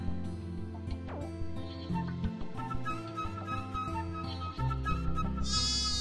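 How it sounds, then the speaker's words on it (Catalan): Sheep in a flock bleating over a layered, busy background, with repeated calls sounding close and fairly loud throughout. "Guaita, si això sembla un ramat d'ovelles"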